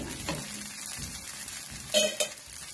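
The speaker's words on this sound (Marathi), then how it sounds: "चांगलं आता हे चांगलं भाजायचं तेलाची काही आवश्यकता नाही आहे" Bottle gourd appe roast in a pan with a soft, steady sizzle. A couple of sharper metallic clinks come near the end, close and fairly quiet.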